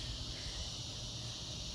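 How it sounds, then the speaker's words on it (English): Cicadas drone in an East Texas backyard, a faint, steady high-pitched buzz that runs unbroken and alone. "You're starting to be able to hear the cicadas"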